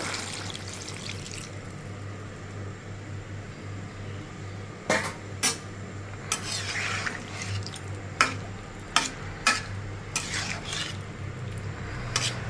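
A curry of flat beans, potatoes and khalshe fish simmers in a pan while broth is poured in, with soft liquid sounds followed by a series of sharp utensil clinks and scrapes against the pan.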